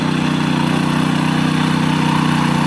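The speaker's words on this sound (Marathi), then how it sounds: "बघतच असाल तुम्ही की ट्रॅक्टरसुद्धा एकदम व्यवस्थित चालतं आहे" A small tractor ploughing a farm field, its engine running in a steady close-up chug with an even pulsing drone and no pauses or speech.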